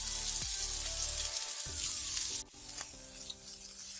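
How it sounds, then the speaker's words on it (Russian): Chopped onion sizzles in hot vegetable oil in a pan, a steady loud frying hiss with a few scraping stirs, heard up close with no voices. "Теперь высыпаю лук и буду обжаривать лук до полупрозрачности"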